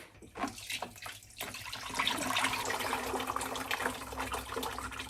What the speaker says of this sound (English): Get the mixed glaze and we fill the sieve.